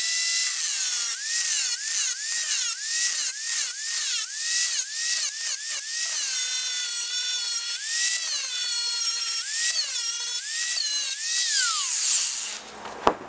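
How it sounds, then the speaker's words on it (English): Angle grinder with a cut-off wheel slicing through a metal piece, a loud continuous high whine with repeated rising and falling pitch sweeps as the wheel bites, running steadily for about twelve seconds before stopping abruptly. "I'm going to just do it with the cut-off wheel on my grinder real quick."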